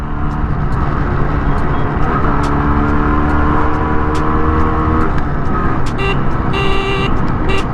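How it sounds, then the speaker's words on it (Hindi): A 20-year-old Yamaha RX-135 two-stroke motorcycle sounds its horn in a few short toots over steady engine and road noise while riding. "20-year-old horn still working"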